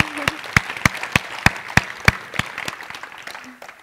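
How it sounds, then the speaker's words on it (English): Applause from a conference audience comes as a short run of sharp, evenly spaced claps that fade out after a few seconds. "Let's give them a round of applause."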